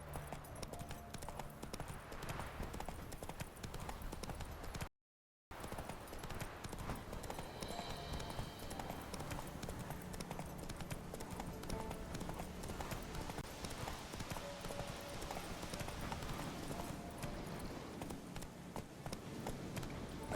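A horse gallops in The Witcher 3 video game, its rapid hoofbeats pounding steadily over a continuous bed of ambient game sound, broken once by a short silent gap.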